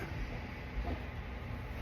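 Inside a moving Japanese train on a pilgrimage route, a steady low rumble and hiss of the carriage running along the rails, constant and moderately quiet with no voices.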